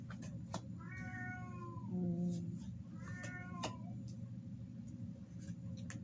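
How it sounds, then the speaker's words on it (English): A pet cat gives two drawn-out, mournful meows close by, each a wavering rising and falling cry. Faint clicks and a low steady hum run underneath, and no one speaks. "That's my cat checking in just to say hey,"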